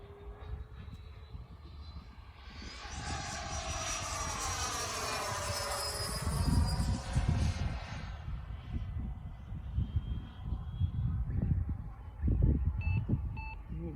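A red Freewing Avanti S 80mm EDF RC jet makes a high pass, its ducted-fan whine rising broad and loud as it approaches, peaking overhead mid-way and fading as it pulls away, with wind rumble underneath.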